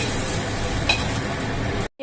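Chopped onion frying in a pan after eggplant slices were fried, a loud continuous sizzle with stirring scrapes, ending abruptly.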